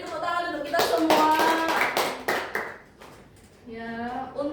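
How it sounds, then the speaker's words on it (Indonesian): A classroom of students clap their hands together for a micro-teaching session, a dense burst of nearby applause that alternates with stretches of voices talking over it. "Beri tepuk tangan untuk kita semua."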